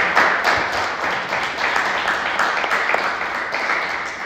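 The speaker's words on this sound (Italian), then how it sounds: "Ragazzi lo salutiamo con un bel applausino" A group of young people gives a guest a warm round of applause, a dense, steady patter of many hands clapping at close range that fades slightly toward the end.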